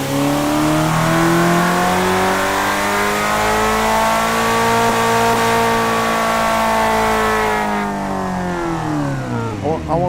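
A custom-built car engine in the Assetto Corsa racing game revs loudly and steadily for about ten seconds, its pitch climbing then easing, with a sharp gear-change or rev drop near the end.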